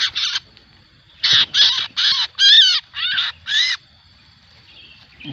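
A sooty-headed bulbul calls outdoors in a string of loud, bright chirping phrases, one brief note followed after a pause by six quick bursts in a row, close by against a quiet background.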